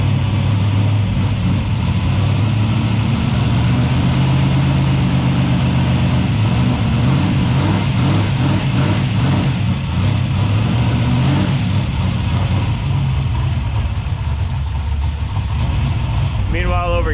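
A turbocharged 6.0 LS engine in a truck raised on jack stands idles loudly and steadily throughout, with a deep constant rumble close to the microphone.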